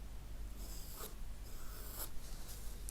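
A regular graphite pencil draws on paper to lay out a watercolour sketch: quiet, close scratchy strokes come in short bursts about once a second against faint background hiss.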